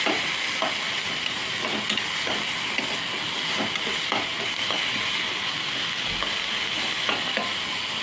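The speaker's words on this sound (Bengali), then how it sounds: "এবার গ্রেট করে আদাটা দিয়ে দিচ্ছি, দিয়ে ভালো করে আবার নেড়ে নেড়ে" Vegetables with grated ginger stir-fry in a pan, giving a steady loud sizzle broken by repeated scraping and clinking of the spatula as they are tossed.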